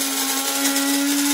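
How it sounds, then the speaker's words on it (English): A power drill fitted to grind coffee beans for home-brewed Turkish coffee gives a loud, steady, high-pitched motor whine that runs without a break for the whole brief moment. "I want some fresh coffee ground beans. Grind some."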